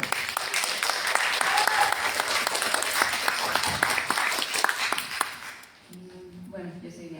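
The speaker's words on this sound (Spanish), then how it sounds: "Un aplauso." Audience applause greets a performer at a FENALEM 2023 spoken-word event, a steady dense clapping that fills most of the stretch before fading out, with a voice starting to speak at the end.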